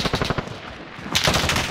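Video game gunfire in rapid automatic bursts, loud and dense, running continuously and swelling into heavier fire near the end, with no voices over it.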